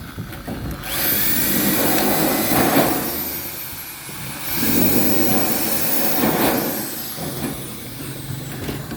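A power cutter grinds through a metal box gutter in two long, loud passes, its steady roar rising and easing with a high whine over the top. No one speaks.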